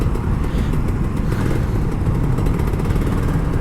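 Older Kawasaki Ninja RR 150 two-stroke motorcycle engine buzzing with a shrill, rattly tone, held steady and loud at close range for several seconds, nobody speaking.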